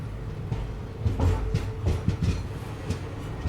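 The Secunderabad–Rameswaram special train sits at Rameswaram station, with a low rumbling hum of engine and coaches and intermittent clanks and thuds nearby, steady and fairly loud with no voices.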